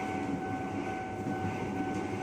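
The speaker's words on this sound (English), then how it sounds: "Arriving at train station" Train pulling into a station, heard as a steady, continuous rumble with a faint sustained electrical whine, no talking.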